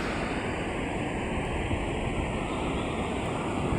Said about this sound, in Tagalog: Super laki ng alon guys.